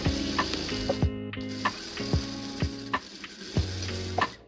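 A sewing machine stitches a seam on a fabric pet bandana. It runs in short bursts with clicking mechanical pauses in between, close and fairly loud, with no talking.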